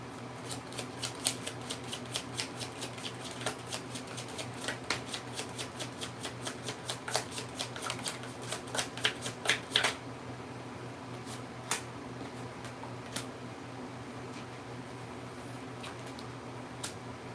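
Tarot cards shuffled quickly in a rapid crisp riffle of dense ticks for about ten seconds, then a few scattered card snaps over a quiet background hum.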